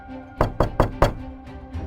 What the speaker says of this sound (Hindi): जैसे किसी ने लकड़ी पर 3 बार दस्तक दी हो